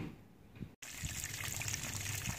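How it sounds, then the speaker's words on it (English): Cooling water streaming from a carbureted Honda 40/50 HP outboard motor, a steady close splashing gush that begins after a brief cutout and continues without talk. "All right, our water is running."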